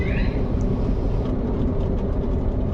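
A vehicle travels through a road tunnel in Norway on the Oslo to Bergen route, giving a loud, steady low rumble of engine and road noise that fills the enclosed space without a break.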